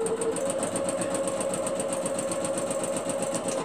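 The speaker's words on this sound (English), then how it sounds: "I'm going to sew these down" A sewing machine stitches fabric pieces down with a fast, even mechanical whir and steady rhythmic ticking, close and continuous until it stops at the end.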